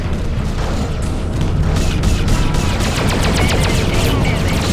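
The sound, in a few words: spaceship gunfire in video game Freelancer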